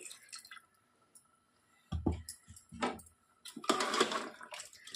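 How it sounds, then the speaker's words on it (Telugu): Brief splashing pours of water into a mutton curry in short bursts, separated by quiet gaps, close by with a wet, trickling quality. "ఆ వాటర్ని ఇందులోనికి యాడ్ చేసుకుంటున్నాను చూడండి"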